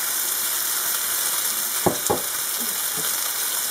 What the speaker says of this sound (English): that sizzle is exactly the same here